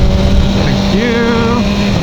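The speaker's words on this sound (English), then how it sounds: "Clutchless shift, amazing." A BMW S1000R motorcycle engine roars loud and close during a clutchless upshift, with the pitch dropping and climbing again as the gear changes over steady wind rush.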